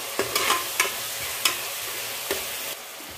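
Ground masala with ginger and garlic sizzling in a pan with onions for channa biryani, a soft steady hiss broken by several sharp scrapes and clicks as a spoon stirs, close by with no talking.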